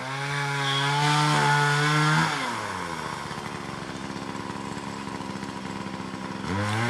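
A Poulan Pro chainsaw with a sharp chisel chain cuts tree stumps flush, snarling at high revs under load, then dropping to a lower rattling idle before revving up again near the end.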